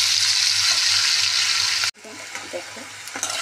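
Elephant foot yam pieces fry with salt in a pan, a loud, dense sizzle that cuts off abruptly partway through, leaving quieter scattered crackles and faint clinks afterward.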